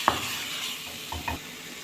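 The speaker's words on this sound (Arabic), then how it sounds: "انزل بعد كده بسلطة البتنجان، تتقلب مع البصلة بالشكل ده." Grilled eggplant salad being stirred with onion in a pan, a quiet low sizzle broken by a sharp utensil tap near the start and a couple of soft stirring scrapes, with no speech.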